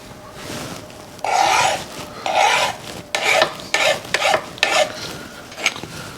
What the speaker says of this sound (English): I gotta go around with a file off these corners.